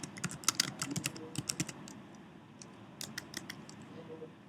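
Rapid clattering keystrokes on a computer keyboard as a paper title is typed, in close irregular bursts with a short pause midway, no voice over them.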